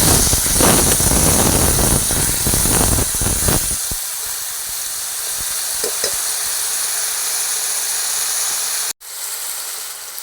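Potatoes and figs dropped into hot oil in a pan, a loud burst of close sizzling and hissing that settles into a steadier fry, with a brief cut near the end and no speech.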